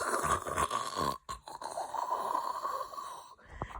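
A voice imitating loud snoring for Mr. Noisy, a rough, rattling nasal rasp sustained in long drawn-out breaths with a brief pause between them, close and fairly loud.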